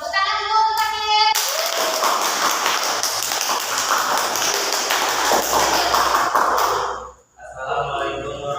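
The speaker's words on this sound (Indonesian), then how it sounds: "Tepuk tangan dulu untuk Hakim" Applause breaks out in a school setting during an academic supervision session with group presentations; a voice is heard briefly first, then dense clapping runs for about six seconds before a short lull and more talking.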